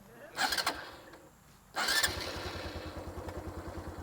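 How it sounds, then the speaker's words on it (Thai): A 2021 Honda Wave 125i motorcycle starts up: a short burst of the electric starter, a pause, then a second crank that catches and settles into a steady, quick idle putter close by. "อันนี้ก็คือสตาร์ทเครื่องยนต์นะครับ"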